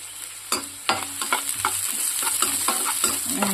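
Onions sizzling in a pan as they brown, with bay leaf added, a constant hiss broken by repeated scraping stirs of a spatula.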